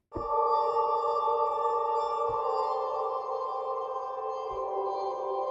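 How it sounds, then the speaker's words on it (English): A sustained synth tone from a UNIFY patch holds steady with faint high shimmering tingles on top, dry and focused, with soft pulses recurring every couple of seconds, in a chill EDM style. "Hear the high tingles, how they're nice and dry and focused."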